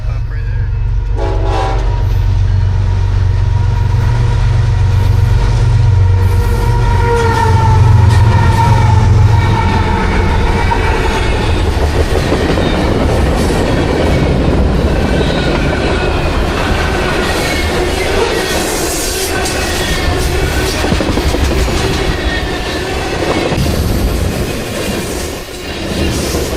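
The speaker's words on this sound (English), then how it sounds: "Here comes the train." A train rumbles past close by in Edmonds, Washington, on Puget Sound, with a heavy low roar, rattling wheels and a horn blast early on, the noise swelling and staying loud throughout.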